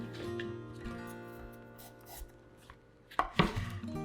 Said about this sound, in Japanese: 適当な大きさにざく切りして耐熱容器に入れておきます。